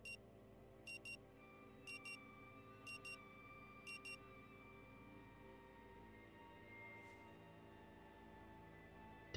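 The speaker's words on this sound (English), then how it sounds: "The frantic sound of the alarm nudges you back to the present." An alarm clock rings in the video game Rue Valley, sounding as repeated pairs of short, sharp beeps in a steady rhythm over a quiet ambient hum, then stopping.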